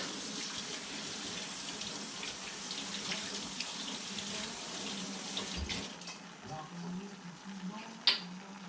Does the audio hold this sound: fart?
no